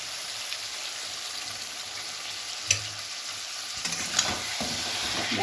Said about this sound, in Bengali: এবারে আমি চিকেন আর আলুটা একসঙ্গে দিয়ে দেব।